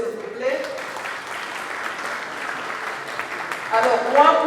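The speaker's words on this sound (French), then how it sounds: "je vous demande d'applaudir, s'il vous plaît" Audience applause at a ceremony in the DRC marking a lawyer's 55-year career, a steady broadband wash of clapping lasting several seconds, with voices talking over it at the start and again near the end.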